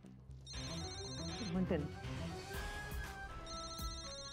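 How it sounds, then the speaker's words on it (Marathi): A telephone rings with an electronic ringtone in two short bursts, one near the start and one near the end, while people talk close by over it indoors. "अर्जंट फोन आहे."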